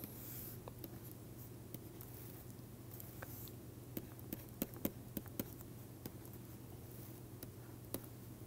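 A lecturer sketches a graph by hand during a lecture on the Haar wavelet, making faint, irregular scratching and tapping strokes over a steady low room hum, with no voice.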